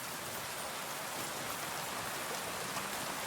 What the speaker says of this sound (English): And it just started raining.